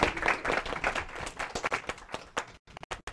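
An audience claps together to vote on an option during a startup-week talk, a dense burst of applause filling roughly two and a half seconds, then breaking up into a few scattered claps before fading.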